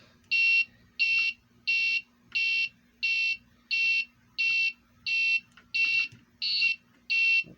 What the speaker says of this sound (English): the beeper's not nice and loud now